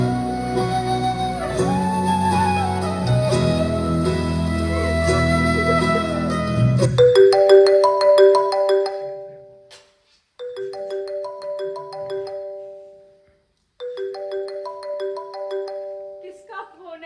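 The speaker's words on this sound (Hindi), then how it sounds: "किसका फोन है राम?" A phone ringtone plays in a stage drama, a bright repeating melodic tone in short bursts with brief pauses, following a stretch of singing.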